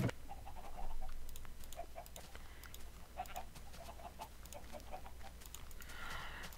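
Chickens in an open farmyard in a video game, a scatter of short clucks and chirps repeating at a low, steady level over a faint background hum, with no talk.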